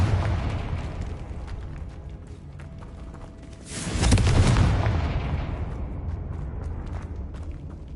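A Confringo explosive spell blasts in Hogwarts Legacy, a loud booming burst that swells and rumbles for about a second before fading into the steady game ambience, with no talking.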